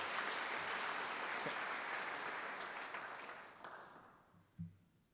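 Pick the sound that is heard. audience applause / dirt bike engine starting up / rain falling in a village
audience applause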